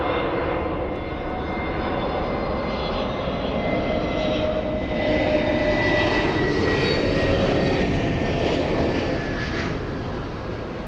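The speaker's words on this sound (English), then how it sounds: "we have a United Airlines 787 landing up" United Airlines Boeing 787 jet landing at Los Angeles International Airport, a steady loud engine roar with a broad rushing drone and faint whining tones, sustained without break and without talk.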